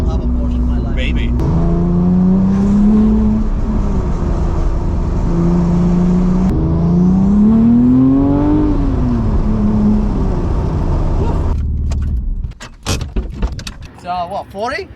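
Engine of a rebuilt Porsche 911 Turbo heard from inside during a ride, a loud steady drone with rising and falling revs through gear changes, ending in a few seconds of quieter cabin noise.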